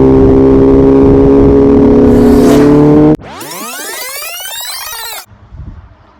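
A 2020 BMW S1000RR motorcycle fitted with a full Akrapovic GP exhaust roars loudly and steadily up close, then cuts to a single sharp rev that climbs in pitch for about two seconds before dropping away.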